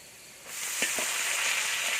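Kale leaves hit a hot pan and sizzle loudly, a steady close frying hiss with a couple of brief stirring scrapes, and no talk.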